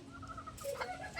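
A hen clucks in a series of short, tonal calls with a busy outdoor background underneath, close and moderately loud.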